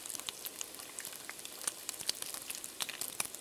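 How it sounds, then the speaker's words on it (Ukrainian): Food sizzles and crackles quietly in a pan in a video game, a soft continuous frying hiss dotted with small pops. "Хай смажиться"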